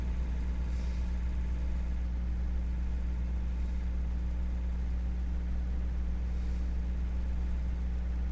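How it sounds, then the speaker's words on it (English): A new Massey Ferguson tractor idles on a farm, a steady low engine drone with a constant hum running unbroken and fairly close throughout. "finally get to drive my Massey Ferguson new tractor"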